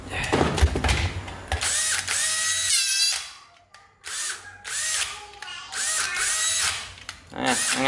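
A Japanese domestic-market cordless drill/screwdriver whirs in several close bursts, with its torque clutch set at 17 cutting out and ratcheting, while someone talks over and between the runs.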